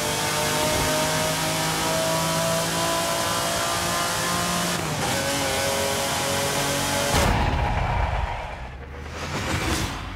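A Jaguar XJR-15 in Forza Horizon 5 drives a lap, its engine roaring loud and steady with revving shifts and whooshing passes, briefly cutting out near the end before picking back up.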